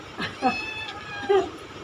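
Kittens let out several short, thin meows, fairly faint against a hissy indoor background, with no talking.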